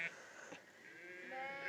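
Sheep on a farm bleat in a short, wavering cry, a fairly faint, distant-sounding call that rises again toward the end of the brief moment.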